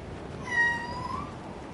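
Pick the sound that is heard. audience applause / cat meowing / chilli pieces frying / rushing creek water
cat meowing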